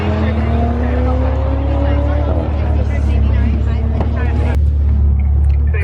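Maserati Ghibli race cars roar along a track, their engine notes rising and sweeping past one after another, loud and close, with a sharp transient near the end.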